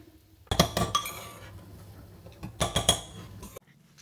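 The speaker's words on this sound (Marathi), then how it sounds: "एक फोक घ्यायचा आणि फोकने मोकळा करायचा" Cooked rice being loosened with a fork inside a cooled pressure cooker: two bursts of metallic clinks and scraping against the pot, close and moderately loud, separated by a quieter pause.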